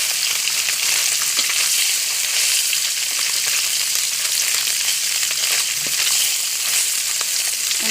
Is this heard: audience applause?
no